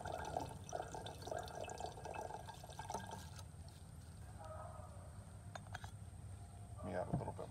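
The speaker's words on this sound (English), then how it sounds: "So let me add some nitric, about 100 milliliters." Dilute nitric acid, about 100 milliliters, is poured onto ceramic Pentium CPUs in a container, a soft liquid trickle and splash that fades partway through, with a faint clink near the end.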